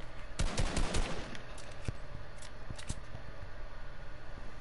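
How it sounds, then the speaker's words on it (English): Gunfire in a Fortnite-style building video game, a rapid rattling burst of shots early on followed by scattered single cracks over a constant background hum, fairly faint overall. "If they keep trying to shoot me,"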